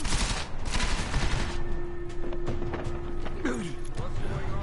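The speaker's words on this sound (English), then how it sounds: "They want me to shoot up the place." Rapid gunfire and mechanical clatter from Deus Ex: Mankind Divided, a dense burst of shots over game ambience with a creaking, ratcheting sound partway through.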